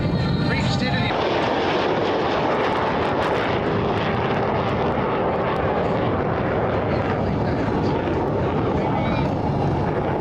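Aircraft engine roar at the Dayton Air Show, a loud steady drone filling the whole stretch without letup as the plane passes close.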